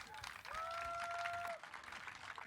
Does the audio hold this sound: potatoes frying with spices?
no